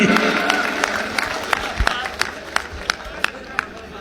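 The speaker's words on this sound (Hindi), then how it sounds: "जोरदार ताली, जोरदार ताली।" An audience at a Hindi poetry recital claps in a steady rhythm, with sharp beats about three times a second that ring out over a murmuring crowd and a voice.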